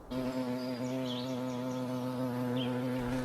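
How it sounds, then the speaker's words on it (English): A steady insect buzz hums close by for several seconds, its pitch wavering slightly as the wings drone on without a break. "It was a buzzing sound, and they expected it to be a bee or a wasp."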